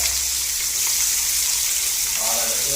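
Onions sizzling in hot oil in a pan while fish curry is cooked, a steady close hiss of frying that runs through the whole stretch, with faint voices toward the end.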